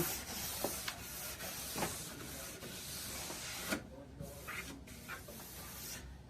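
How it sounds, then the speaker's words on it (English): Quick brushing strokes over freshly waxed, structure-pressed ski base, a series of soft rhythmic scrubbing swishes, close and quiet. "So we'll give it a quick brushing."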